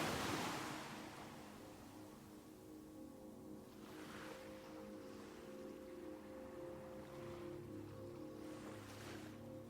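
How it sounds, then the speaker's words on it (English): Faint ocean waves roll onto a sandy shore, soft swells rising and easing every few seconds under a low, breezy hush. "The gentle sound of the waves"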